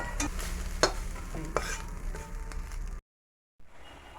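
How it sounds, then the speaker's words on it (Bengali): Mustard greens fry in a pan with a close sizzle, punctuated by sharp stirring scrapes and clanks, then a brief silence before the frying resumes. "এই যে শাকটা বসিয়ে দিয়েছি, সর্ষে শাকটা এবার ভেজে নেবো"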